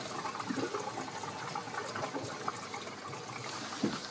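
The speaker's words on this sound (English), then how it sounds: "I think I hear the water heater filling up." Steady rushing and trickling of water filling a vintage RV's water heater tank, moderately quiet and continuous, with a couple of faint knocks.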